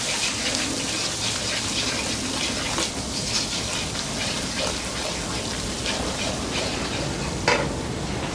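Spices with tuiri pepper fry in a pot for a Guyanese curry, a steady, dense sizzle with light crackle and occasional stirring scrapes throughout.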